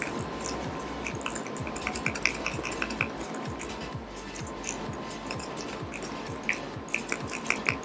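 A mixing stick stirs a mixture in a container while building the fuselage sides of a SIG Colt model airplane, giving steady scraping and clicking taps throughout, close and fairly quiet with no talk.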